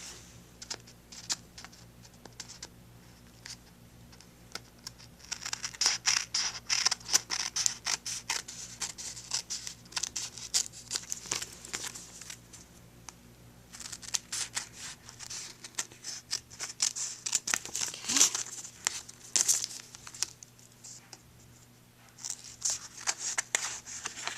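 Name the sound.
scissors trimming paper stuck to contact paper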